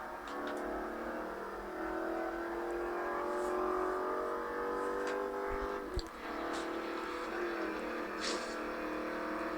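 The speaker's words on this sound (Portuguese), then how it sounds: "Se o Jeep não parar de acelerar" A Jeep's engine accelerates during a race in a video game. A sustained, mid-loud droning tone climbs slowly in pitch as it revs, with a few faint clicks over it.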